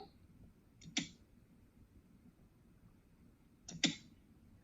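Two crisp computer mouse clicks about three seconds apart, sharp and close, over faint background hum with another click cut off at the end.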